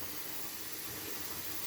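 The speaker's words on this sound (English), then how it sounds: "I'm going to put some more hot water in there, I think." Hot water runs from a tap in a steady, soft, unbroken hiss, faint and close with no voices.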